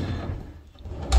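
A large double-wide kitchen drawer rolls along its runners with a short rumbling slide, then closes with a soft thud at the end, heard close up.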